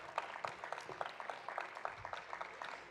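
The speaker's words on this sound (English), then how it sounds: "Big round of applause for our tech guys" A small audience applauds the tech crew at MOCAfest, a faint, steady patter of distant clapping.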